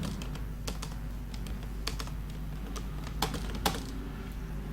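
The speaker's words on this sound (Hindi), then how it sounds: "यहाँ पर आप टाइपिंग करते हैं।" Typing on a computer keyboard while entering text in InPage Urdu software, with scattered sharp key clicks at an irregular rhythm over a steady low hum of room and computer noise.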